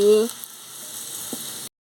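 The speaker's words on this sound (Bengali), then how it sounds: "এবার আমি সোয়াবিনগুলোকে ভেজে নিচ্ছি" Soybean chunks fry with a soft, even sizzle after a brief tonal sound at the start, then the sound cuts off abruptly to silence.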